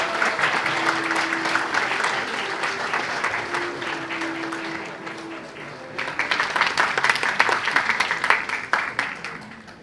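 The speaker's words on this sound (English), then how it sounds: "Let's have another big round of applause for Dr." A graduation ceremony audience gives a big, sustained round of applause, a dense wash of many hands with brief voices heard over it, swelling again loudly after a short dip midway.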